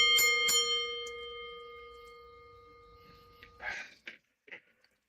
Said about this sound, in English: I guess we should ring the bell and get this started